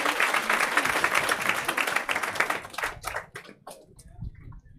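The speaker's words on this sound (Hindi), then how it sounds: "आ जाओ ताली बजाओ रे।" Audience clapping erupts at a Hindi motivational gathering to welcome an arriving guest, a thick burst of many hands that thins out into a few scattered claps and fades away after about three seconds.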